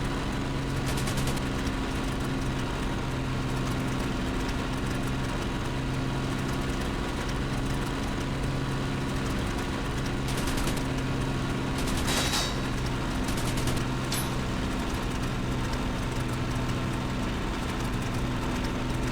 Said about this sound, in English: I'm hearing that the engine is not in the best shape whatsoever. It's doing these strange noises.